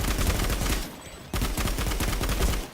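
Rapid automatic gunfire from a weapon with heavy vertical recoil in a shooter video game, dense loud bursts with a brief gap near the middle, no voice.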